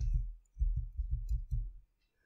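A few keys are typed on a computer keyboard, a short quick run of soft, muffled close taps followed by silence.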